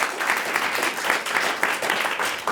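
A studio audience applauds steadily, a dense, even wash of clapping at moderate loudness with no talk over it.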